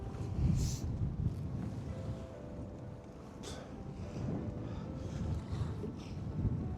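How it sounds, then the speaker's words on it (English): Gusty wind buffets the microphone on a small fishing boat out hauling pots in choppy water, a low rumbling roar with waves slapping and washing around the hull, fairly steady throughout. "As you can see, it's a bit windy today"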